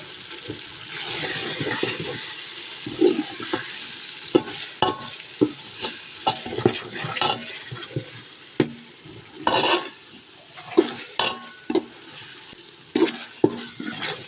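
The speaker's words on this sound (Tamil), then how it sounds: "நல்லா வணக்கி விட்டுக்கணும்." Green chillies, coriander and mint leaves being sautéed for chicken biryani: a steady sizzle broken by repeated scraping and stirring strokes of a spoon in the pan, close and fairly loud, with no talking.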